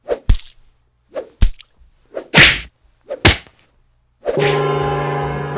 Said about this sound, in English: Ryan Gosling punching Asians in Only God Forgives.